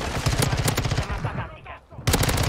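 Video game gunfire coming from every side, with loud rapid bursts of automatic fire that pause briefly and then start again hard.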